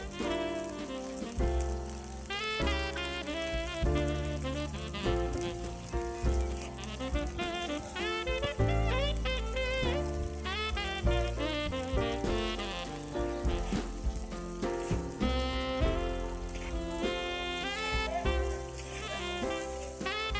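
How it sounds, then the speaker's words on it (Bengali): Sliced onions fry in hot oil with cardamom and cinnamon for a snakehead fish kalia, giving a steady, continuous sizzle that sits beneath loud background music throughout. "পেঁয়াজটাকে আমি হালকা করে ভেজে নিচ্ছি।"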